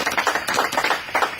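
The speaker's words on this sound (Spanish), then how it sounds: "un aplauso" Brief clapping from a small audience at a political youth camp talk, a handful of hands patting in an uneven rhythm, fairly close and clear, ending quickly.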